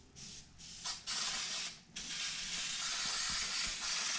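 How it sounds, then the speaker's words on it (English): Aerosol can of spray adhesive hissing onto trunk carpet for a 1967 Ford Mustang custom trunk, a few short bursts followed by a long steady spray, close and loud with no talking. "So once you got your carpet kind of cut out wherever you need, we're gonna spray some of this."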